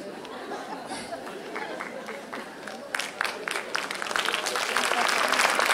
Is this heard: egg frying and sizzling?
no